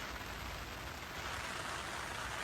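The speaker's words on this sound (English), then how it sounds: "I think we've got 2 hours of like this drizzly rain." A steady drizzly rain falls by the River Trent, a soft, even hiss of fine drops with no breaks, faint and continuous throughout.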